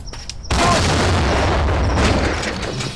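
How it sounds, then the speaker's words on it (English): A grenade detonates in a video game, a sudden loud, close boom that rolls into a long, dense rumble and crackling debris that hold strong for several seconds. "throw a nade off and try and take that guy out"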